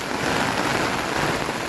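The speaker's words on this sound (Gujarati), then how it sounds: "અને હજી વરસાદ ચાલુ છે." Heavy monsoon rain pouring steadily over a flooded roadside settlement by a canal, a dense unbroken hiss of drops close and loud with no voices.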